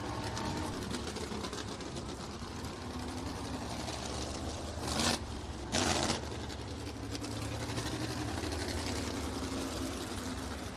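Race cars roll on warm-up laps at Showtime Speedway, a mix of sprint cars, Crown Vics and mini stocks, making a dense, steady engine drone throughout with two brief louder surges midway.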